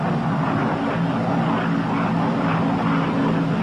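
Twin engines of a P-61 Black Widow night fighter at full throttle with water injection make a loud, steady, continuous roar that holds unbroken throughout.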